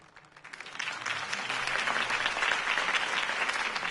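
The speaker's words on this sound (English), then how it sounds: "If only Mr. Wayne, my campaign's largest backer, could have heard that applause" A video game crowd at a political campaign rally breaks into applause, building from scattered claps into a steady, dense ovation that holds to the end.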